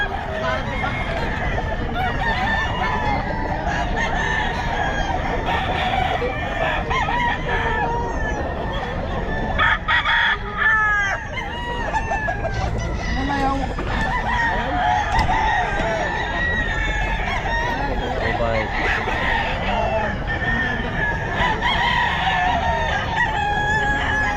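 Gamefowl roosters at a busy pet market crow repeatedly over a steady hubbub of crowd babble and clucking, several birds overlapping, some near and loud, others farther off, with people talking throughout.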